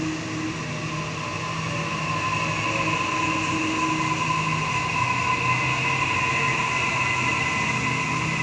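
A Sydney Waratah series 1 electric train passes at Warwick Farm station, a steady close rumble of wheels on rail with sustained squealing tones and motor whine holding throughout.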